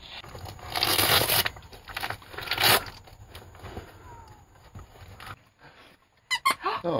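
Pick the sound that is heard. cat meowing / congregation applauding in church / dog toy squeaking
dog toy squeaking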